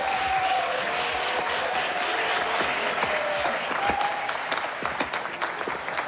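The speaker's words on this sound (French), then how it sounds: "Voici nos premiers concurrents, on les applaudit bien fort." A studio audience applauds contestants on a French TV game segment. The clapping is steady and dense, and a faint tone and a few stray voices sound beneath it before it thins toward the end.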